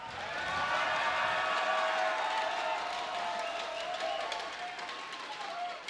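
A big esports arena crowd at a live match cheers loudly and steadily throughout, a dense sustained roar of voices with scattered claps and shouts.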